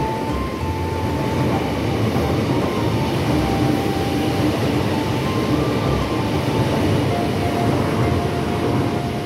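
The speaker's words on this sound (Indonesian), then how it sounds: "Wow, ada KRL. KRL ngebut." A KRL commuter electric train roars past close by at speed, a steady loud rumble with a faint high electric whine riding on top throughout.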